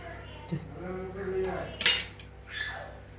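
A knife scrapes and cuts into soft pav bread rolls being slit for masala pav, a few brief quiet scraping clicks with one sharper crisp burst, while a faint voice-like tone hums underneath.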